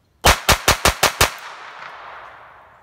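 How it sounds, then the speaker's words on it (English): A magazine emptied from an Astra Cub .22 Short pistol: six sharp, evenly spaced shots in quick succession, close and loud, followed by a fading echo. "So let's burn a mag or two."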